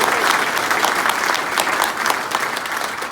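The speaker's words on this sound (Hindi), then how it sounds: "तालियां कमजोर रह गई भैया।" Audience applause at a live comedy show, a dense steady wash of many hands clapping at close range, holding evenly throughout without any talk over it.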